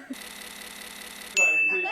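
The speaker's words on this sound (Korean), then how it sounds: "써니 인턴이 갑자기 딩동댕을 꺼낸다" A ding-dong chime bell rings out suddenly and loudly near the end, ringing on after a stretch of steady background noise and a faint earlier tap.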